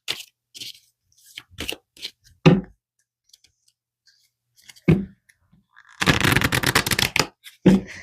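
Tarot cards handled and shuffled close by, with scattered single card snaps and flicks followed by a dense riffle of about a second, under a quiet setting with no talk.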